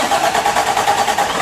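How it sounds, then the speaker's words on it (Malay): A lorry engine runs loud and close in a steady, continuous drone with a slight pulsing texture, captured just after it is started at night. "dia terus pun hidupkan enjin."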